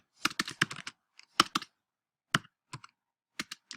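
Fingers type on a computer keyboard in irregular bursts of crisp, close key clicks separated by short silent gaps, with no other sound.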